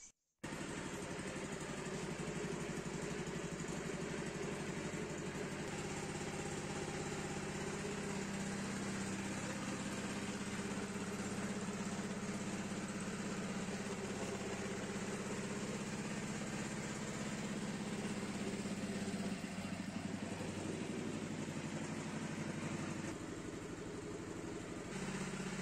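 A mini tractor's engine catches right at the start and then idles steadily, a low, even mechanical chug that holds at a close, moderate level with a slight shift in tone partway through.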